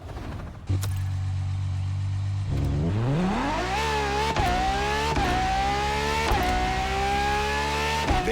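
A Ferrari LaFerrari supercar's engine starts with a loud idle, then revs and accelerates hard, climbing through gears with repeated upshifts, the strong engine tone rising and dropping close and alone.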